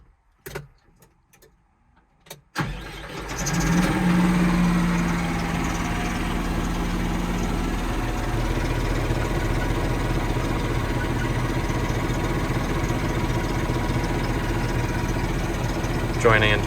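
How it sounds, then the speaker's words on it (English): A Fendt 200 Vario tractor engine starts after a few seconds of quiet fumbling and small clicks, catching with a brief crank and then settling into a steady, even diesel idle that continues unchanged and close by. "let's start this tractor up."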